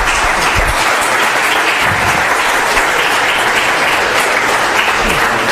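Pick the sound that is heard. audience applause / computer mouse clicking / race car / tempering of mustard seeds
audience applause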